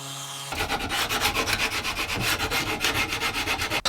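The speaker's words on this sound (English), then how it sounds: "I think some sanding will sort the first ones out" Rhythmic sanding of wood, close by, with steady back-and-forth rasping strokes repeating quickly and evenly.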